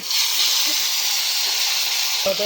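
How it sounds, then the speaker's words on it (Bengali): Eggs frying in a pan at a rainy forest campsite, a steady close hiss with a faint low tone rising near the end. "এবার ডিমগুলো ভেজে নেবো ডিমগুলো দিয়ে দিই ডিমগুলো ভেজে নিই"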